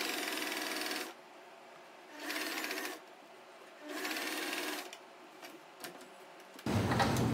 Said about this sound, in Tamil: தொடங்கும் போது ஒரு லாக் ஸ்டிச் போட்டு நம்ம தொடங்கலாம்.